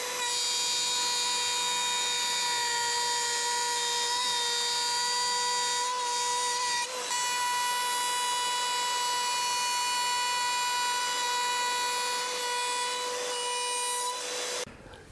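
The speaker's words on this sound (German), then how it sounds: "werden wir mit unserer Fräse, wie gesagt, ist alles auf 10 mm eingestellt und werden das erste jetzt erstmal fräsen" A router milling wood finger joints with a 10 mm setting on an all-in-one jig whines at a loud, steady pitch, cutting continuously for about fifteen seconds with brief shifts in tone before winding down.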